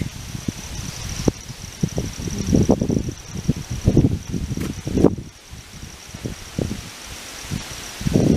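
Breeze rustles plants in an urban cottage garden with zinnias, squash flowers and hibiscus at the end of August, coming as gusty, uneven buffeting that swells and fades throughout, with a faint steady high tone behind it.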